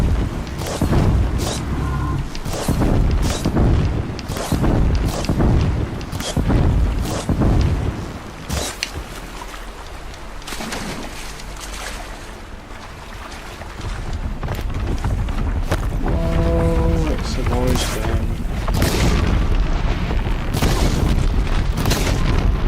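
Booming blasts and crackling fire as enemies are set alight in Horizon Zero Dawn, loud and dense throughout, with wind-like rushing noise and a brief tonal ringing near the end.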